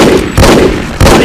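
Loud gunfire in the video game Hidden and Dangerous 2, with two or three heavy, close shots arriving in quick succession over a dense, noisy backdrop.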